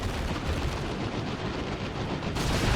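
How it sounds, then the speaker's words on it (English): A mortar shell strikes amid a battle in the real-time strategy game Dawn of War 2: Retribution, heard as a thick, continuous roar of explosions and gunfire filling the whole stretch without pause. "It's a mortar shell."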